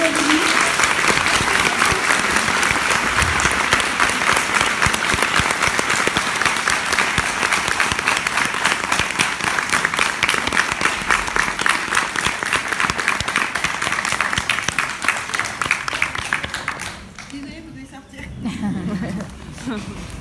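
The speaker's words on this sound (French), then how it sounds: "Je vous demande d'applaudir." At Comic Con Paris, a large audience applauds loudly and steadily for about seventeen seconds before the clapping fades, and a voice begins speaking at the end.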